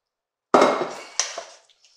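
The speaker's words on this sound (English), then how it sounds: "So now what we're going to do is we're going to add in our shrimp" Shrimp tipped into a pot of simmering orzo for Cajun shrimp orzo, giving a sudden wet clatter and sizzle that fades, then a second smaller splash and a few faint clinks.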